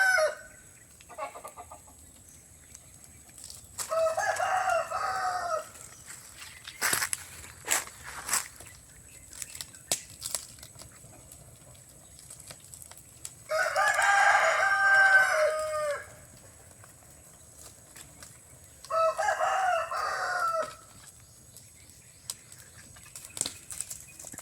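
Chickens and roosters at a chicken house cluck and crow in loud repeated bursts, with wing flaps and scattered outdoor noise between the calls.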